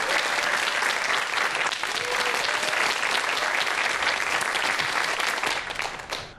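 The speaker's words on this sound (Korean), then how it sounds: "큰 박수로 부탁드리겠습니다." Sustained, full audience applause at a Korean TV science talk on alien life, loud and even throughout, tapering slightly at the end with no speech over it.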